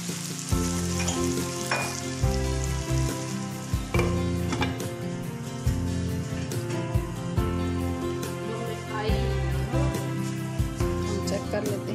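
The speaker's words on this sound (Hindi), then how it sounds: "यह हमारी भिंडियाँ थोड़ी फ्राई हो गई है" Okra frying in a pan for a home bhindi dish, with a steady sizzle and a recurring low, rhythmic backdrop that runs throughout.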